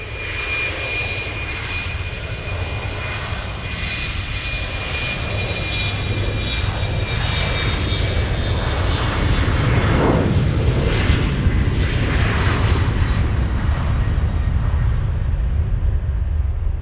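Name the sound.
LOT Polish Airlines Embraer E195 jet taking off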